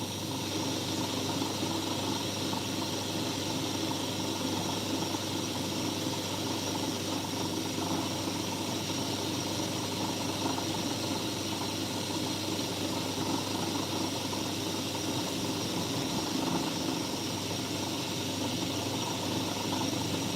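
A metal milling machine cuts into a wooden workpiece, its motor and cutter holding a steady, loud, continuous whir and grind with no pauses and no voices.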